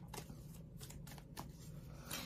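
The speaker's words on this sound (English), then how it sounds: "So now I'm going to shuffle the cards" Tarot cards are shuffled in a quiet run of quick, papery riffles and flicks, several short bursts close by.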